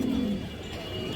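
Pigeons at a pigeon farm, one short low coo close by at the start, followed by faint throaty murmuring in a quiet space.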